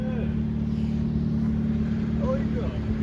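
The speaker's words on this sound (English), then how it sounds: "It's a good exhaust. That sounds good." A K11 car engine running through a cheap eBay exhaust, giving a steady, close low drone with a constant hum that holds even throughout, while a voice briefly sounds over it.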